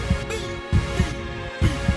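A slow, thudding heartbeat sound effect in a K-pop song pulses in paired low beats, close and steady, over a sustained humming synth bed with no voices.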